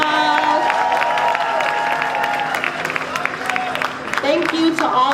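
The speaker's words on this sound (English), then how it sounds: "give everyone a round of applause" Applause from the audience at an evening awards ceremony honoring young green leaders, a dense mix of clapping and crowd noise with cheering, a steady tonal hum and music-like tones running underneath.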